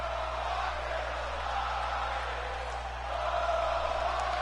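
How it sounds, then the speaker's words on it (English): A crowd roars and cheers in a steady wash beneath a low electronic hum in the WWE 2K20 wrestling video game, with the noise swelling slightly toward the end. "The crowd, though. You hear the crowd,"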